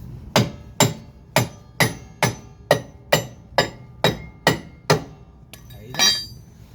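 Steady metal hammer strikes on an EZGO golf cart wheel hub during a hub replacement, about a dozen evenly spaced ringing blows at close range, with a louder scraping clank at the end.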